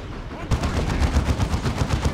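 Rapid gunfire and thumping grenade launcher shots fill a Warhammer 40,000: Dawn of War II battle against an Ork advance, a dense, steady rattle of overlapping bursts that starts abruptly and keeps going.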